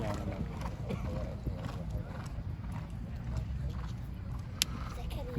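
A horse trains in a Saudi Arabian racing setting, its hooves clip-clopping in a steady rhythm under ongoing talk, with a brief louder knock near the end.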